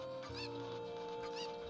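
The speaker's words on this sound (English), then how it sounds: "I think with this chicken" Hens cluck in the Kakariko village errands of the Zelda: Ocarina of Time video game, a pair of short, bright game-sound bursts over a steady musical background tone, fairly loud and alone.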